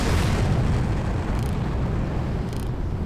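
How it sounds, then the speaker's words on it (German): Rocket explosions in the video game Far Cry: a continuous loud, dense booming roar filling the whole stretch, heavy and low, with no talk over it. "Die schießen Raketen auf mich!"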